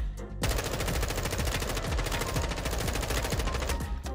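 An M4 rifle fires in a first-person shooter video game, a fast unbroken automatic burst of sharp, loud shots lasting several seconds, beginning abruptly after a brief pause.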